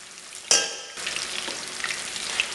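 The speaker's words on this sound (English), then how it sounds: "Do you see how this is frying?" Catfish sizzles and crackles in hot oil, a sharp hiss bursting in near the start, then settling into steady frying bubbles close by.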